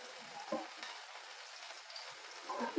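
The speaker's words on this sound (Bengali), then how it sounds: "আমি একটা পেঁয়াজ কুচিয়ে রেখে দিয়েছিলাম, সেই পেঁয়াজ কুচিটা এর মধ্যে আমি দিয়ে দিচ্ছি।" Chopped onion goes into hot oil and fries with a soft, faint sizzle, a few small stirring scrapes rising briefly near the start and end.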